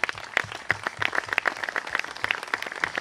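Applause from an audience at a film awards ceremony, brisk and fairly close, with individual hand claps standing out in a quick, uneven rhythm for about three seconds.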